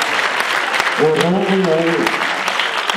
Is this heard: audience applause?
yes